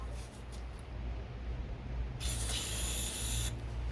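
Cleaner sprayed into a small nozzle under the hood of a 2014 Chevrolet Camaro SS 1LE, a close steady hiss over a low engine-bay rumble, swelling stronger for a second or so near the end.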